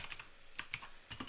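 Keystrokes on a computer keyboard during a live API demo, a quick scatter of light, close clicks in short irregular bursts with pauses between, quiet overall and with no talking.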